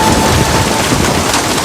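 Heavy rain pours down in a loud, dense, unbroken roar with no voices over it.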